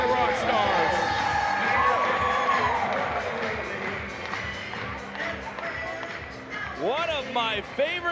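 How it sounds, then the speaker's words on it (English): Baseball stadium crowd at a Banana Ball game in Savannah, Georgia, cheering and shouting loudly in a sustained roar, with whistles and an announcer's voice over it. "Give yourselves a round of applause"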